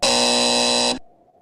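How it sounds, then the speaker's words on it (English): A loud game-show buzzer blares in one steady, harsh tone for about a second, then cuts off into near silence. "Buzzer."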